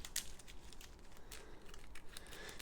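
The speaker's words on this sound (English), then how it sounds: "okay, shuffle these up." Cards from the Battlestar Galactica board game being shuffled by hand, a quick run of soft crinkly riffles and taps, close and fairly quiet, with no talking.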